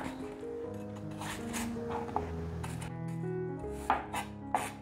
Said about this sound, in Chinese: 苹果切一半。 把心切掉